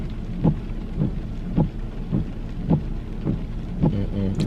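Steady rain falls outside a car on a cold 37-degree day, a continuous dense patter with rhythmic soft thumps roughly every half second and no talking.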